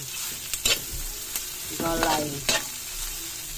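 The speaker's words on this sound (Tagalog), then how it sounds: "Mix na natin guys yung ating gulay" Mixed vegetables for lumpia togue are stirred in a hot frying pan, a continuous close sizzle broken by several scraping strokes and a rattling clatter of the utensil against the pan.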